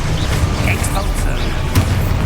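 Exposo explosion spell in Hogwarts Legacy, a booming burst amid continuous battle noise, with a person talking over it.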